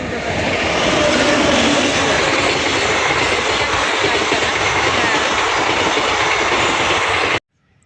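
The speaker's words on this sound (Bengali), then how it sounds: "এই দেখো পাশ দিয়ে আবার ট্রেন যাচ্ছে ট্রেনের আওয়াজ" A passenger train runs past close by on the rails on a cold morning, a loud continuous rumble and wheel clatter holding steady for about seven seconds before cutting off abruptly.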